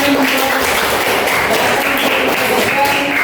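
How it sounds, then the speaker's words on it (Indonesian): Dense clapping from a class for a student group fills the classroom, steady throughout, with some voices murmuring beneath it. "Tepuk tangan dulu untuk kelompok 4"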